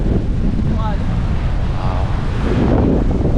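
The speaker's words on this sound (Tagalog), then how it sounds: "malakas ang hangin dito mga pops" Strong wind at a beach buffets the microphone in a loud continuous roar, with surf rumbling underneath throughout.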